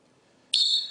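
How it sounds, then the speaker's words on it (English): Ice judge's whistle blown once on a game show, a sharp shrill blast that starts abruptly after quiet and holds briefly. "Georgia, your time will start on the ice judge's whistle"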